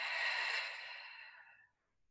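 A slow, smooth exhale during yoga breathing practice, one soft airy breath close to the ear that gradually tapers and fades into silence.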